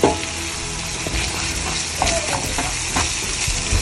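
Ground meat sizzling and frying in a pan, seasoned, with steady crackle and several scraping stirs of a utensil against the pan, close and continuous.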